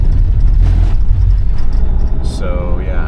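An old diesel Sprinter van cruising on an open road, its low engine drone and road rumble loud and continuous from inside the cab, with a voice speaking over it.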